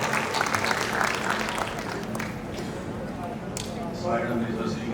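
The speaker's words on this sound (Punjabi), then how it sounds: "ਬਹੁਤ ਬਹੁਤ ਤਾੜੀਆਂ ਨਾਲ ਸਵਾਗਤ ਕਰਾਂਗੇ।" Dense applause rolls through a university hall as an audience welcomes guest Vijay Tandon at an artists' felicitation ceremony, steady clapping from many hands that holds for the whole stretch.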